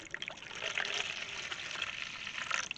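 Water poured by eye, about half a cup, into a pan for cooking garlic tacos, giving a steady splashing trickle that runs close and fairly loud for a few seconds with no talk over it.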